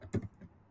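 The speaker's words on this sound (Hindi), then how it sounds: "बैकटिक में टाइप करना है" A few quick keystrokes tapped on a computer keyboard, close and crisp, with one louder clack near the start and soft clicks after it in a quiet room.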